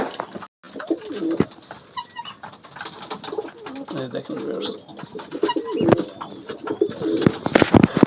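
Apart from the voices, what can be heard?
pigeons cooing while eating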